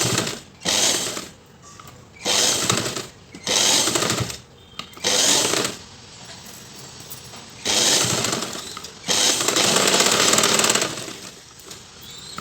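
A sewing machine stitches a blouse sleeve in repeated loud bursts of rapid mechanical chatter. Short runs alternate with brief pauses, followed by one longer continuous run near the end.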